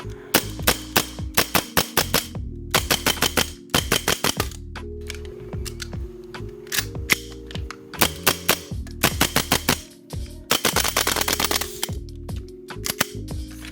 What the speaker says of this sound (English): we'll give you a quick little dry fire test just to show you that it shoots and works really well